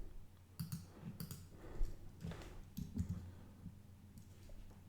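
Faint clicks of typing on a computer keyboard come in short, scattered bursts with pauses between keystroke clusters, heard close in a quiet room.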